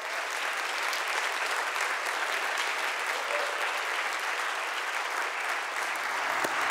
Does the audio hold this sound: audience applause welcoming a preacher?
yes